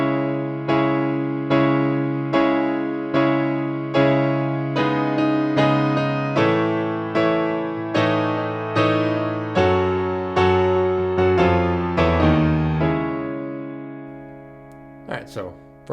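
Piano chords from the intro of a song ring out in a steady repeated rhythm, building through several changes before fading, with a brief high flourish near the end.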